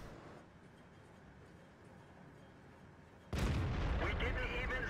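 A tank gun fires in World of Tanks: after a stretch of low rumbling engine noise, a sudden loud blast breaks in and holds as a heavy, sustained roar to the end.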